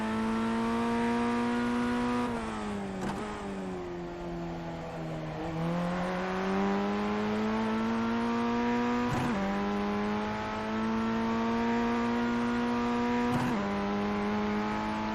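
An open-wheel race car engine in the iRacing sim drones continuously, its pitch sliding down and climbing back as the car brakes into corners and powers out under full throttle, with brief dips at gear changes.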